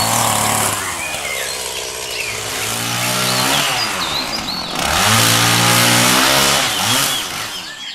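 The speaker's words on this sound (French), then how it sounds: "les bruits de Antoine qui est en train de scier du coup les branches d'arbres" A chainsaw cuts tree branches on a farm, its motor loud and close, repeatedly revving up and bogging down as it bites into the wood, with no voices over it.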